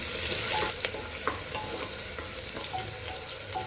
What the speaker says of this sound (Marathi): आता कांदा टाकूया। चांगलं ढवळून घेऊया।